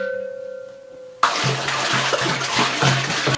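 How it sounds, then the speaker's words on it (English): Water pours into the bottom of a pressure canner, a sudden loud, steady splashing gush that begins after a quiet moment with a faint hum and continues to the end. "I just put 2 to 3 inches of water in the bottom"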